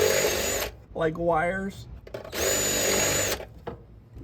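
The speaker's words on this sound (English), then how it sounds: "I had to disassemble the wiper cowl to access the upper part of my firewall so that I could drill a hole." A power drill whines in two bursts as it bores a hole through a car's firewall under the wiper cowl, with someone speaking briefly between the bursts.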